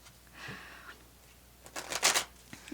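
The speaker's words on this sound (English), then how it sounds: "I'm going to give this a good shuffle over here." Tarot cards are shuffled close up in a quiet room: a soft rustle followed by a brief, brighter riffle near the end.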